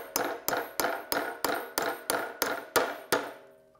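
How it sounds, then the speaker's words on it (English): A hammer strikes a rubber sailboat tiller extension joint ten times in steady succession, each sharp tap ringing briefly before the next, close and clear with no talk. "Hammer it down."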